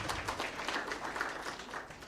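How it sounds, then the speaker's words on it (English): Applause from an audience of young people and guests at a World Population Day event in Kenya, a steady patter of many hands that fades slightly toward the end, with no talk over it. "A big round of applause, please."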